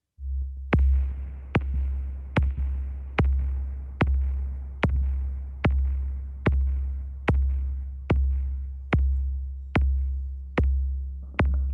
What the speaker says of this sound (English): let's listen to that kick drum